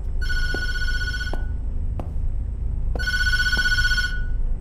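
A telephone in the horror video game Tattletail rings in two loud electronic bursts separated by a pause, with faint thumps between them and no voices.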